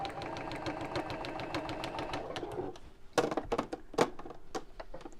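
Sewing machine stitching around a reverse heart applique with a small stitch: a fast, steady run of rapid clicking stitches for about two seconds, then slower, uneven stitches and taps, fairly quiet.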